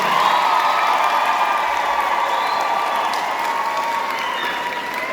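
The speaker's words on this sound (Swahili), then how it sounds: "Hebu nisikie makofi na vigelegele asubuhi ya leo." A youth audience at a church seminar in Kigamboni applauds and ululates, a steady loud wash of clapping and high trilling cries that fills the space without pause.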